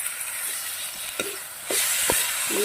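Steady frying sizzle of onions and boiled potatoes in a pan, with intermittent scraping and stirring clicks; no voices.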